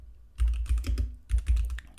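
Quick bursts of keystrokes on a computer keyboard as a terminal command is entered, close and crisp clacking in two short runs with a brief pause between.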